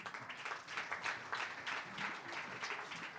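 A crowd applauds steadily for a few seconds, a dense patter of many hands clapping at moderate distance.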